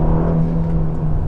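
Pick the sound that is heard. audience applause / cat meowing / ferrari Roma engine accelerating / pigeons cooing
ferrari Roma engine accelerating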